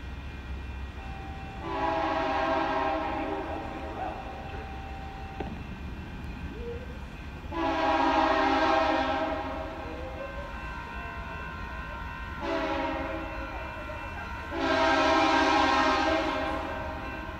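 A train horn sounds in three long, loud blasts separated by pauses, with a steady low rumble of the southbound train running underneath at Burlingame station.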